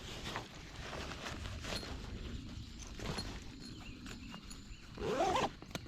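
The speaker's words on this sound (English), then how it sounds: "Zip up." Zipper on a Mystery Ranch Urban Assault 21 backpack being worked closed, faint rustling and handling first, then one quick, louder zip near the end, close to the mic.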